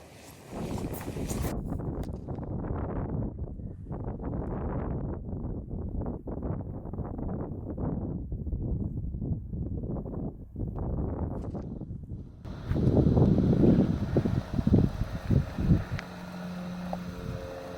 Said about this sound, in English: Kind of windy, so I won't even try to talk.